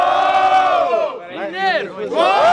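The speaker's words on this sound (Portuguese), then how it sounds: "Quem gostou das rimas do Mineiro faz muito barulho" A rap battle crowd at a student event in Guarulhos roars and chants together in loud, rising and falling waves of voices, close and continuous throughout.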